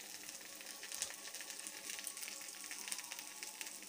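Curry leaves and green chillies sizzle in hot oil for an egg masala Maggi, a steady, close, hissing crackle of frying with no talking.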